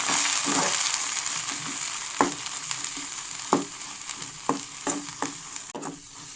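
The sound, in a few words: stirring goat brain with ginger garlic paste in a pan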